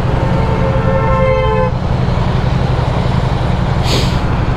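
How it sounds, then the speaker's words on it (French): A car horn toots with a sustained harmonic tone for over a second, over steady loud traffic rumble, with a brief hiss of air near the end. "Et tout le monde klaxonne"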